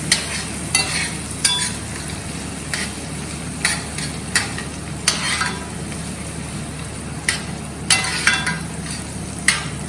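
Pasta with chili flakes and oregano cooking in a pan over a low gas flame: a continuous sizzle broken by repeated short scraping strokes of a spatula at a steady, unhurried rhythm.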